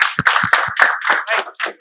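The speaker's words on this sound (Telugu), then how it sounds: "క్లాప్స్ కొట్టండి." A room of students bursts into short, loud clapping close by, with uneven claps and bursts of hand slaps over about two seconds.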